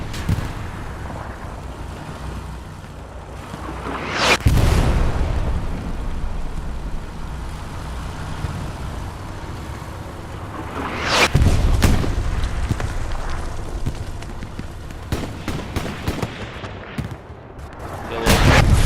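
Tank cannon fire and shell explosions in the WWII video game Hell Let Loose: several loud, sharp booms ring out at intervals over a steady rumble of engines and distant battle noise.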